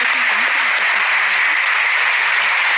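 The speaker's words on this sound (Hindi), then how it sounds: "उनको जोरदार ताली बजा के धन्यवाद दो।" A large audience at a religious gathering in Muscat, Oman claps loudly, producing a thick, continuous burst of applause that stays level throughout with no pauses.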